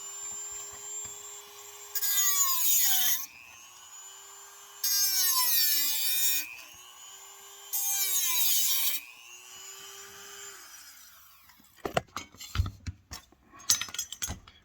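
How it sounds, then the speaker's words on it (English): A Dremel rotary tool plunges into and cuts legs for a titanium pot stand for an alcohol stove: three loud high-pitched grinding bursts of about a second each over a steady motor whine, followed by close metallic clinks and handling. "Let's cut 2 more legs. plunging the Dremel in."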